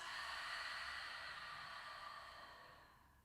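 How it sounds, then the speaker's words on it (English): Long, soft open-mouth exhale during a yoga session, a breathy airy rush that starts full and slowly fades over about three seconds, quiet and close with no talking. "Open your mouth. Exhale peace."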